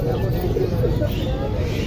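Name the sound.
highflyer pigeon pair cooing in shop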